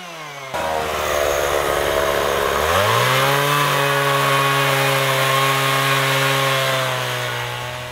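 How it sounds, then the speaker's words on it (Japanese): Chainsaw cutting out the core of a log to make a Japanese honeybee hive, starting up, then settling into a loud, steady close-up whine that holds for several seconds before easing slightly. "チェーンソーでまずあのコアを中を抜くんですよ。"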